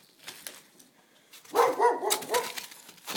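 A neighbor's dog barks in a backyard, a few distant soft woofs followed by a louder cluster of three or four close barks, heard alone without talking.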